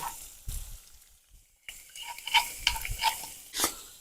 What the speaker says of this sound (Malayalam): എണ്ണ ചൂടായതിനു ശേഷം നമ്മൾ നേരത്തെ ചതച്ച് വെച്ച വെളുത്തുള്ളി ഇഞ്ചിയും കൂടി ഇട്ട് കൊടുക്കുകയാണ്